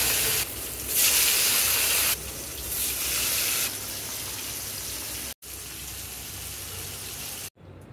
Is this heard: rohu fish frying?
yes